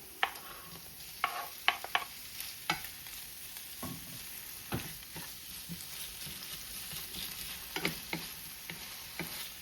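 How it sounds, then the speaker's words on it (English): Turkey bacon and softened onion fry in a pan with a low steady sizzle, broken by irregular clacks and scrapes of a utensil stirring, close and fairly quiet. "Onion gets soft. Now I'm gonna add it turkey bacon."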